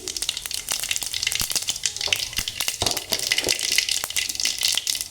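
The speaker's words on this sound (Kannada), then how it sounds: "ನೋಡ್ರಿ ಎಣ್ಣೆ ಕಾಯಿತು ನಾನೀಗ ಸಾಸಿವೆ ಹಾಕ್ಕೊಳ್ತೀನಿ" Mustard seeds sizzling and popping in hot oil while tempering for tomato chitranna rice, a dense steady fry with sharp crackles and spits throughout, close and fairly loud.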